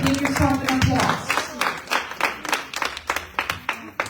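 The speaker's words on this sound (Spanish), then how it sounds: "Dese un aplauso. and give yourself an applause." Applause from a church congregation during a bilingual Spanish-English sermon, with bursts of clapping that thin out into scattered claps and fade over a few seconds, while a voice speaks at the start.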